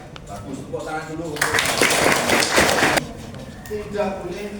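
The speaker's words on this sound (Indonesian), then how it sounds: "tepuk tangan dulu." Classroom applause from students, a burst of clapping swelling in the middle with scattered claps around it, under ongoing talk from a teacher.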